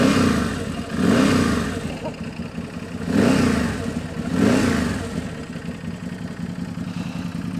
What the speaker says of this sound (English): Nice little lumpy idle.